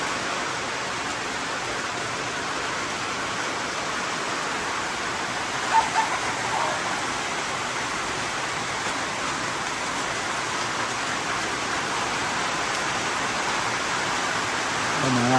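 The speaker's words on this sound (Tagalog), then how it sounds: "Wala, biglang baksak ang ulan" Heavy rain pours down outside a goat pen, a steady, dense hiss of drops that holds at an even level throughout, with one small knock partway in.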